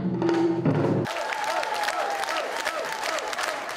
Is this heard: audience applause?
yes